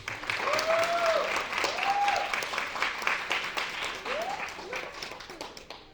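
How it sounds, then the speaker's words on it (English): An audience at an epilepsy awareness event claps in a steady, moderately quiet round of applause, with faint voices rising over the clapping. "So give yourself a round of applause."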